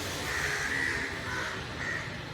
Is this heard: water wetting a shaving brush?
no